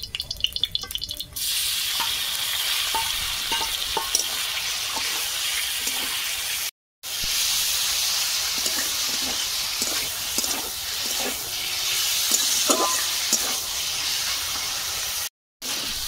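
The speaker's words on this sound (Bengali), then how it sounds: "কড়াতে সরষের তেল দিয়ে দিচ্ছি, মাংস ভাজবো। তেল গরম হয়ে গেছে, মাংস দিয়ে দেবো।" Meat sizzles and hisses in hot mustard oil in a wok, a loud, continuous frying roar broken by two brief silent gaps, with no talk.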